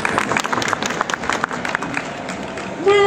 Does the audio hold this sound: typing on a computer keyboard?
no